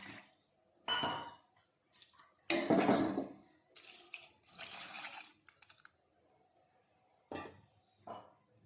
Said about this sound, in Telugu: ఇంకొక గ్లాస్ ఇప్పుడు వేస్తాను రెండు గ్లాసులు వాటర్